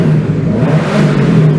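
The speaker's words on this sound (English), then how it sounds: "proceed to rev the absolute shit out of the car that is down on power" A Subaru with its catback exhaust removed and running down on power revs hard and loud, up close: a steady droning engine roar that holds high and even throughout the short burst, with no voices.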